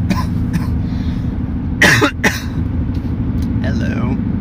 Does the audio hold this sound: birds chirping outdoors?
no